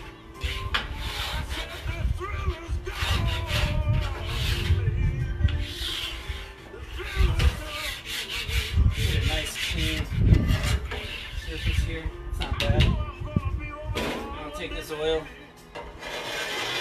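A metal scraper drags residue off a Blackstone griddle in repeated rasping strokes, gritty and close, in uneven bursts with pauses between, while someone talks over it at times.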